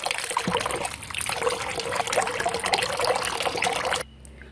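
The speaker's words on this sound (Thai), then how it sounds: "เราก็เอามาล้างน้ำให้สะอาดเช่นกันค่ะล้างเกลือออก" Limes are rinsed under running water in a kitchen sink to wash off salt, a close, steady trickle and splash of tap water that continues throughout before cutting off abruptly.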